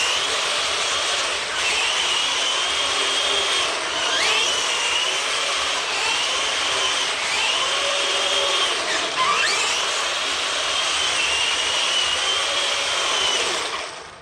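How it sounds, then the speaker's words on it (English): An SG 1203 RC tank fitted with an upgraded, faster motor runs continuously, a loud, close, high-pitched electric whine with small pitch sweeps as it moves along the ground. "The RPM of the motor got faster, the RPM at the tracks got faster, and the tank got a little faster on the ground."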